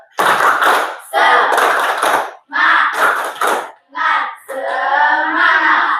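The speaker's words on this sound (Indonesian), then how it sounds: "Tepuk semangat" A classroom of pupils performs the tepuk semangat clapping chant on a teacher's cue: bursts of rhythmic group clapping mixed with shouted chant voices, loud and close, in several short phrases with brief pauses between them.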